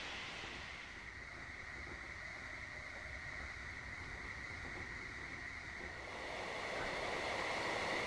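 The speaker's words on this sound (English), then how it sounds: "lots of little trains bouncing back and forth" Small trains run along the tracks in the railway-building video game A-Train, a steady mechanical rail rumble with a sustained whine that swells louder toward the end, with no voices over it.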